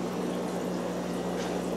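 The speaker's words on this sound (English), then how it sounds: "All right, we've got the bubbler in. It's obviously on." An aquarium air bubbler runs in a water culture bed inside a winter grow room, giving a steady, continuous bubbling and fizzing wash with a low hum beneath, close and unchanging throughout.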